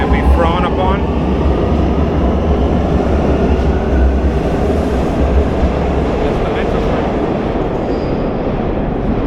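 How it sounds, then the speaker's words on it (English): A Milan metro train rumbles steadily along the rails, a loud continuous roar with rattling and a faint squeal early on. "I enjoy riding the metro."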